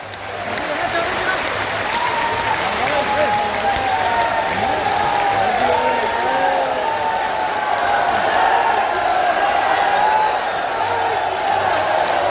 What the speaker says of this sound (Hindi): दोनों हाथ उठाकर जोरदार ताली बजाकर।